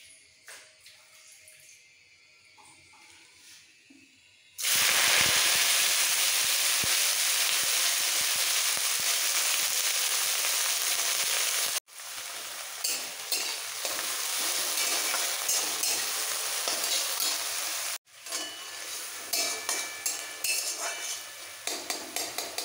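Spinach hits hot mustard oil with cumin, dry chilli and whole cumin tempering, and bursts into a loud, steady sizzle. The frying hiss is broken by brief pauses and stirring clatter, and there is no talking.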